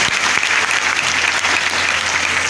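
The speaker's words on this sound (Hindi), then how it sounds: "एक बार जोरदार ताली अपने बजाइए" Sustained loud applause from a seminar audience in Gorakhpur, dense clapping filling the whole stretch with steady intensity and no pauses.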